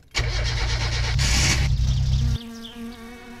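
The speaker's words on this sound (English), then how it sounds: "that's when my car would turn on and idle" A car engine in the driving game My Summer Car cranks with a loud, harsh starter whir for about two seconds, then catches and drops to a steady, quieter idle with a faint high whine.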